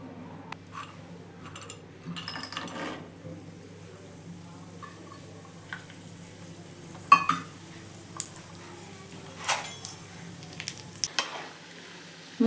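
Cashews frying in a couple of spoons of ghee for Kancheepuram idli, a soft sizzle under intermittent stirring and clinks of a spoon against the pan, louder scrapes in the later seconds.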